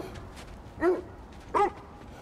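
Two short barks from a dog in God of War Ragnarok, spaced about a second apart, standing out clearly over a low game ambience.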